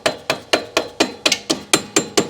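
A hammer taps a metal sleeve into a hole in an Altrider skid plate on a 2024 BMW R1250 GSA: nine crisp, evenly spaced strikes about a quarter second apart, close and loud with no talk.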